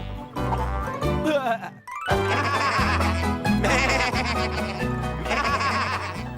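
Cartoon sheep bleat in a children's tractor animation, with bright tonal calls riding over steady looping music that fills the whole stretch, with a brief drop near the middle.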